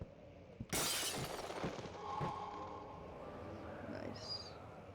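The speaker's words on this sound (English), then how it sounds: "Can I break the glass?" Glass shattering in the video game Amnesia: The Dark Descent, one sudden loud crash followed by tinkling debris settling. A voice speaks quietly during the aftermath.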